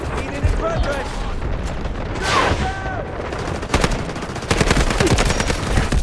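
Rapid SMG bursts from the Delta Force shooter game, with loud repeated automatic fire in clusters and a brief pause, with game effects around the shots.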